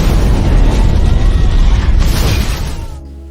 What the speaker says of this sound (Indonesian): saat ledakan itu terjadi